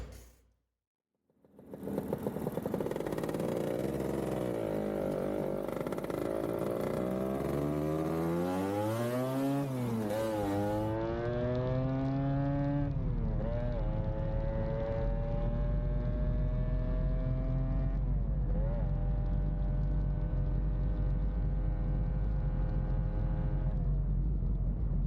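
A motorcycle with a newly replaced front brake disc starts up after a brief silence, then revs and accelerates through rising and falling engine pitch on a test ride, loud and close with wind noise and no speech.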